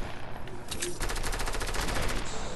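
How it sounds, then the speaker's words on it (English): Rapid automatic gunfire in the video game Fortnite rattles in a continuous burst, slightly distant and synthetic-sounding, with no talking. "There's footsteps and gunshots near me."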